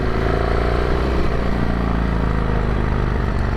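A 1998 Harley-Davidson Sportster, its first start after nine months of storage, idles in a loud, steady, close-up rumble with a throbbing low pulse and a faint mechanical clatter.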